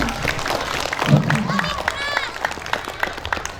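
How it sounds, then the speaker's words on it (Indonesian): A seated audience at a parents' gathering on raising children with the Qur'an gives a short round of applause and light cheering, with voices and chatter running through it. "Tepuk tangan dong."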